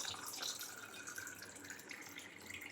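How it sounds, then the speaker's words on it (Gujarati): Water pours steadily into fennel sharbat, a continuous splashing, bubbling stream that stays fairly loud and close throughout with no talking. "પાણી નાખી દેવાનું"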